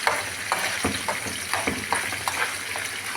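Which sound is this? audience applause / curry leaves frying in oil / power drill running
curry leaves frying in oil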